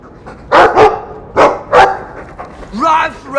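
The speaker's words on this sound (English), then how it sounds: "I like the doggy." Dog barks from the Dragon Age 2 game at Hawke's estate, several separate barks in two pairs, fairly loud and close, followed by a brief vocal sound at the end.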